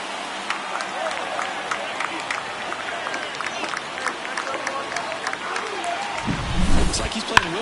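Home crowd in a baseball video game roaring after a home run, a dense sustained stadium cheer with scattered applause, running under an excited commentator's play-by-play.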